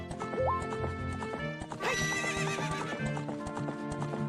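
A ridden horse gallops in a Zelda video game, with rapid rhythmic hoofbeats throughout and a loud whinny partway through, close and clear.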